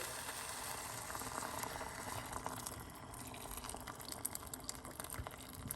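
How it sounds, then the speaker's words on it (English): Quiet bubbling and rushing of hot water poured from a kettle into gravy, a continuous soft watery hiss with small gurgles, heard alone. "some water, hot water from the kettle."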